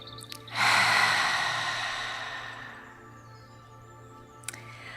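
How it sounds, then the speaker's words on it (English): Slow, audible yogic breath with a loud rushing exhale like ocean waves that swells suddenly and then fades gradually, with a few faint clicks around it and no talking. "your breath will become sound, kind of like the waves of the ocean"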